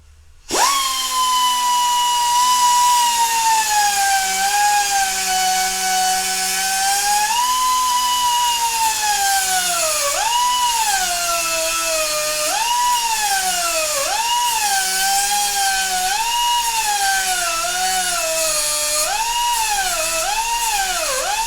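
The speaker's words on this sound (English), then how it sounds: "I didn't cut completely through this aluminum crimp fitting here." A high-pitched power tool whines loudly as it cuts into an aluminum crimp fitting on a transmission cooler line, its pitch repeatedly dipping and recovering as the blade bites, continuous and close with no talking.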